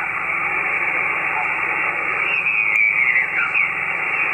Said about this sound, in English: Let me show you the noise reduction feature of this radio.